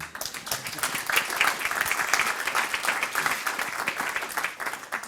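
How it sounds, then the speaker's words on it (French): Audience at an open-source software awards ceremony breaks into sustained applause for the honorees, brisk overlapping hand claps continuing for about five seconds at moderate, slightly uneven loudness. "On peut les applaudir hein, quand même."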